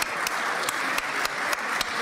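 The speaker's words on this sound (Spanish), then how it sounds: "les brindamos un gran aplauso" Steady applause from an audience in the Chamber of Deputies, welcoming a group of small children seated in the gallery, with dense, even clapping throughout and a few louder claps standing out.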